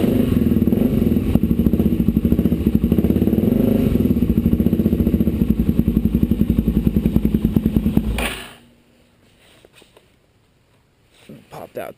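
A cold Suzuki DRZ400SM motorcycle engine idles with a loud, close, steady rapid thumping that runs for about eight seconds, then cuts off into near silence, with a few faint knocks and rustles afterward.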